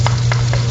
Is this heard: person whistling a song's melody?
no